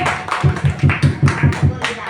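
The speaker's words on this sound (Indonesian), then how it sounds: "Ya, tepuk tangan dulu untuk kita semua." A group claps in a steady rhythm, about seven sharp beats close together, mixed with voices, at the end of a speech during a teacher mentoring session.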